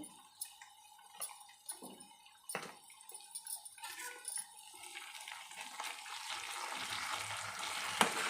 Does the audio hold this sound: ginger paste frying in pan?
yes